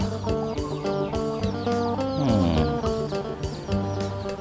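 Backyard native chickens, one small and one large, squabbling over food: a dense run of loud overlapping clucks and squawks, near and continuous, with no talk.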